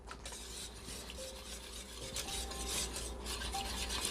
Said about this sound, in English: Take your wire whisk or your spoon and stir it